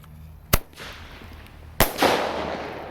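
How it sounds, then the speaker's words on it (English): Two sharp bangs about a second apart from a double-bang single-shot firecracker, the second followed by a rushing hiss as it launches and fades into open air. "this is the double voice single shot firecracker"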